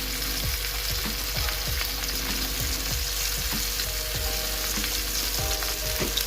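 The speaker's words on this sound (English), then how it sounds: "let's get a burger in the pan" A burger patty sizzles steadily in a frying pan after Worcestershire sauce and Montreal seasoning go on, a loud, continuous fry with repeated soft knocks and scrapes, and no talking.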